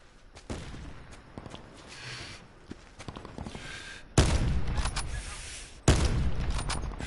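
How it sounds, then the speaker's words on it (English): Video game gunfire: scattered sharp shots and clatter, then two heavy bursts of sustained rapid fire that hit loudly and ring on, with faint voices in the background. "I'm shooting at him"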